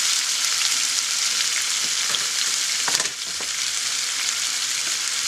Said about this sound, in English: Stir to dissolve the sugar.